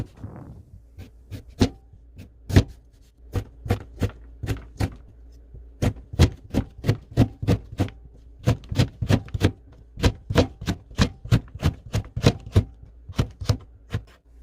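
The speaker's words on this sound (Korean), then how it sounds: "고구마 한 개를 얇게 썰어 가늘게 채 썰어 줍니다." A knife cuts a sweet potato into fine julienne strips on a cutting board, producing sharp, evenly spaced chops in a steady rhythm, close and crisp, with no voices.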